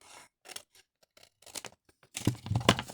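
Scissors snipping paper along the fold of an envelope, several short crisp cuts close up that grow louder and denser toward the end, with no talking.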